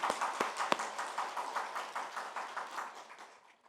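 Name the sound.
applause in a church congregation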